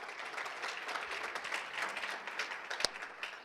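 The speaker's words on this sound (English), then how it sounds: "Give Jennifer a nice round of applause." An audience at a chamber of commerce annual awards gala applauds, a soft, dense patter of clapping heard from a distance, steady throughout with one sharper clap standing out near the end.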